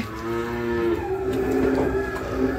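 A six-year-old Friesian dairy cow on a farm lets out a loud, sustained moo close by, its tone rising and holding with a strong, rich resonance for a couple of seconds.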